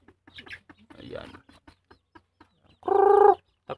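Bantam rooster crows once in a loud, harmonic burst lasting about half a second, close by, after a stretch of scattered clucks, rustling and brief soft voices.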